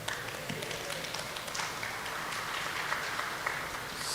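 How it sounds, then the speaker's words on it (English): Scattered applause from professors in a lecture-hall audience at a live event at IIT Kanpur, with light clapping and taps heard from a distance amid crowd murmur. "only the professors are clapping"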